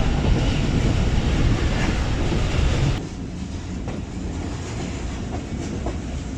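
Jaffar Express passenger train rolling along near Multan, a steady loud rumble of wheels and carriage noise that drops to a quieter, lighter clatter partway through, with no voices.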